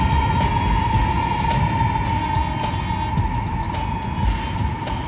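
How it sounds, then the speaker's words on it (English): A train rolls past in Tianjin, China, as a steady, loud rumble with a constant hum that holds for the full five seconds with no voices. "Here comes another train over here."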